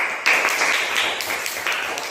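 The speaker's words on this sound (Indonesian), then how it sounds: "Silakan tepuk tangan untuk Sis." Classroom applause, a short burst of clapping from a group of students lasting about two seconds at moderate volume, with faint voices underneath.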